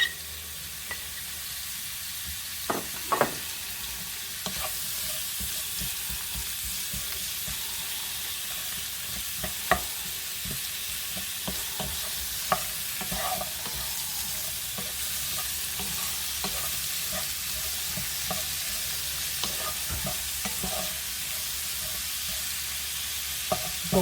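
Onions and raw smoked sausages frying in a pan give a continuous sizzle, while a utensil stirs and scrapes through them in scattered clicks and knocks, with no voices.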